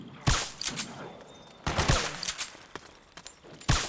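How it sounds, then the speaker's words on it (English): Suppressing gunfire in Metal Gear Solid 4, scattered loud shots and short bursts echoing against a steady background rumble, with several distinct cracks spaced across the moment. "Suppressing fire!"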